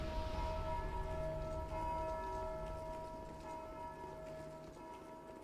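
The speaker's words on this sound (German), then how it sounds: "Jetzt habe ich die Glocke geläutet." A bell rings in Dark Souls 2, a steady sustained tone with shimmering overtones that slowly fades and stays clear throughout, with no talk.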